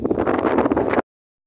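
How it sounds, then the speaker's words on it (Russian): Strong wind blows across an open field beside a small river, roaring steadily into the microphone for about a second before cutting off abruptly. "Ветер по руслу"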